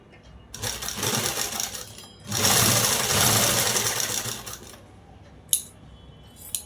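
A sewing machine stitches a long frock sewn from a saree, with a steady whirring run, a pause, then a louder longer burst of stitching, followed by a couple of faint clicks near the end.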